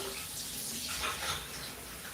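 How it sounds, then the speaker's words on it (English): Water runs from a tap in a steady, soft hiss that continues throughout, heard close by at low volume. "Why are you just letting the water run?"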